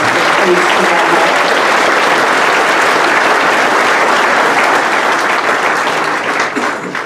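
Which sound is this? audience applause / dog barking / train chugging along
audience applause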